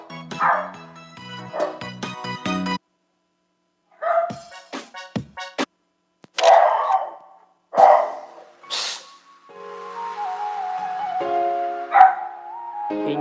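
Several dogs barking loudly and close by in short, irregular bursts with pauses, including yips and higher whimpering sounds.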